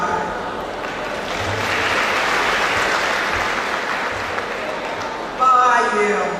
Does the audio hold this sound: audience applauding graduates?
yes